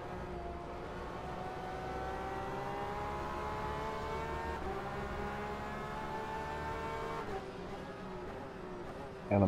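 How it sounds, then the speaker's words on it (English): An LMP prototype race car pulls out of the pits in a sim racing session at Silverstone, its engine droning steadily with rising and falling harmonic tones over a continuous roar, shifting pitch near the end. "LMP just leaving the pits."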